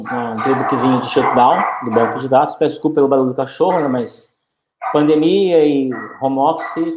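A dog barks repeatedly in the background, the barks mixed in with a person talking close by in Portuguese, with a brief pause midway.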